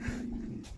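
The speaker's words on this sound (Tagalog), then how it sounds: "Aso!" Dog panting close by in a short burst of quick, breathy huffs, faint and brief with no talk.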